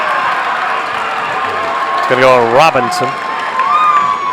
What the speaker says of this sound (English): North Hardin crowd again applauding the call there